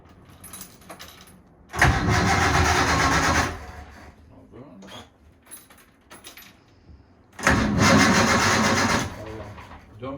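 A boat engine on the Venture cranks and catches in two loud bursts, about two seconds each, separated by quieter rattling and clicks, heard up close.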